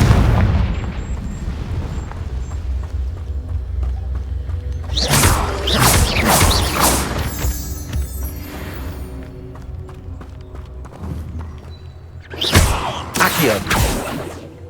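Confringo blasting spells erupting in the Hogwarts Legacy game: a burst of heavy booming explosions early on, rumbling game sounds in between, then another loud blast cluster near the end.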